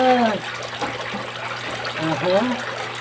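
Water runs and splashes steadily into a catfish pond while it is being filled during a pump test, a continuous gurgling flow heard near.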